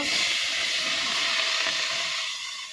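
Washed, cut snake gourd hits a hot wok and sizzles loudly, a dense steady hiss close by that eases slightly at the end.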